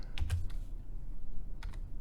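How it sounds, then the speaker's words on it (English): Short burst of keystrokes on a computer keyboard while entering a Google search, a quick cluster of clicks, a pause, then a couple more taps, close and fairly quiet over low background hum. "Sorry, I'm shit at typing."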